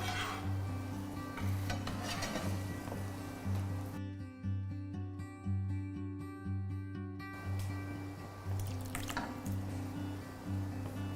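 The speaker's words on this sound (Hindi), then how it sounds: "इस तरह से अभी ये देखो तेल तैयार हो गया हमारा, गर्म हो गया। हम गुलाब जामुन इसमें और डाल सकते हैं।" Gulab jamun frying in hot oil in a kadai, a soft steady bubbling sizzle under a loud low mechanical hum, with a brief tonal interruption in the middle.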